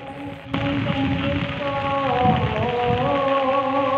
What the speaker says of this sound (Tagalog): malakas pa rin po ang ulan at tuloy-tuloy pa rin po ang ulan